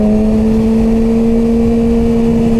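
A Yamaha R6 motorcycle with a Radiant short pipe exhaust, ridden on a city street, drones with a loud, steady engine tone throughout, close up and without any voices.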